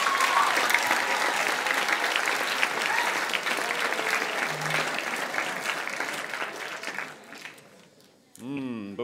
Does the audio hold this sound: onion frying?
no